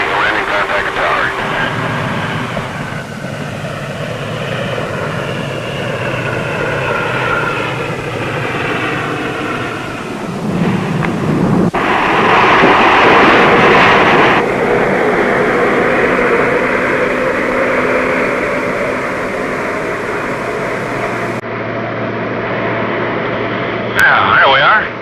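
An aircraft lands on an Antarctic skiway, its engines droning loudly inside the cabin with shifting tones as it touches down and rolls out, under radio chatter and talk.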